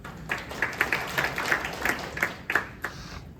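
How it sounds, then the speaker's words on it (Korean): Sparse, light clapping from a small audience at a parliamentary infrastructure policy forum welcoming a professor, with individual claps distinctly separated in a short, moderately near burst. "고 교수님 박수 부탁드립니다."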